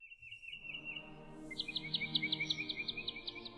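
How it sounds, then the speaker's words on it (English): Birds singing on the Mines map in the World of Tanks video game, a clear repeating chirped phrase with a bright trill joining partway, fairly close over a faint low hum. "The sun is shining, the birds are singing"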